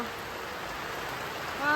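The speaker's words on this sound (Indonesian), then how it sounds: "Hujan lagi. Dari kemarin kita disuguhi hujan nih" Steady rain hissing and pattering nearby at a hillside campsite at Wonolelo Hill Camp, Magelang, fairly loud and even, with a voice starting just at the very end.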